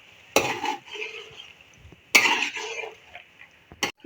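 Chicken masala stirred over a high flame, heard as two short bursts of scraping and sizzling close by, separated by quieter pauses, with a brief final clink.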